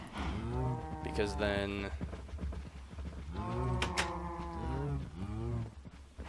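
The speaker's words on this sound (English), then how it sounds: "let's open up the gates and see how many cows we can have come through" Cattle in the Minecraft Better Than Wolves mod, a herd lowing in several long, loud moos one after another, close by, with a few quiet spoken words.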